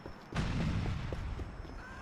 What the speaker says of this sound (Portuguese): Tu tá ouvindo as explosões, né?